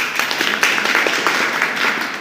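An audience gathered at a cold-weather memorial gathering claps steadily, a dense, continuous round of applause at moderate distance with no speech over it.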